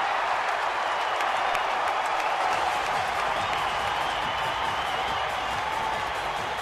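A baseball stadium crowd at a Houston at Arizona game cheers and applauds in a continuous, dense roar that holds steady throughout.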